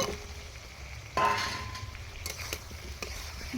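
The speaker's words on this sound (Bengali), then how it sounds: "আলু দিয়ে একবার কষিয়ে নেব" Potatoes stir-fried with spice masala in a pan for a soybean curry, with a steady sizzle that swells when they go in, plus occasional clinks of a spoon against the pan.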